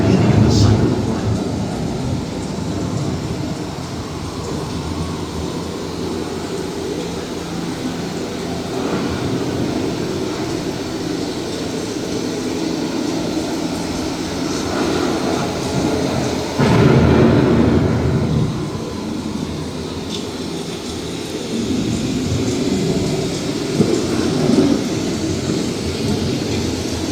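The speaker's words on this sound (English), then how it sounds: "The approaching storm may seem violent and destructive to us, but to nature, it's a new beginning in the cycle of life." Steady rumble of an approaching thunderstorm with continuous rain hiss, a louder thunder roll swelling around the middle and further low booms toward the end, no voices.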